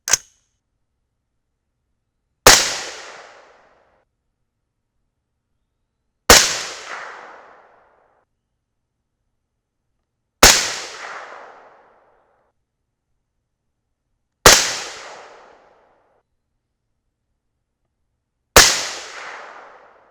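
.223 Rem rifle firing 65-grain Cutting Edge MTH bullets over a 24.7-grain Varget powder load: five loud, sharp shots spaced about four seconds apart, each with a quick decaying tail into silence.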